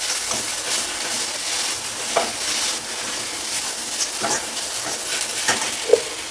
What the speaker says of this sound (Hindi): सभी चीज़ों को अच्छी तरह से हमें भूनना है